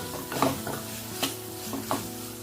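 Tomatoes fry in a pan for mutton curry, a soft steady sizzle under several scraping, clinking stirs of a spatula, close and fairly quiet.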